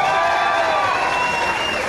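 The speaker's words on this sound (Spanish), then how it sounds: "¡Aplausos a Gran Frodos!" Loud crowd at a political rally in Matamoros applauding and cheering, a dense continuous roar of clapping and voices filling the whole stretch.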